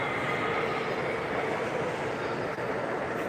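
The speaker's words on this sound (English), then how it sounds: "Disney locomotive." A streamlined Disney locomotive passes close by, a steady loud rumble of wheels and rolling stock with no break across the few seconds and no talking.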